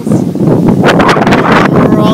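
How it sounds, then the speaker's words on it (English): Loud, rumbling wind buffets the microphone throughout, a steady low roar with gusty flutter and faint talking mixed underneath. "as you can probably hear, it's a little windy."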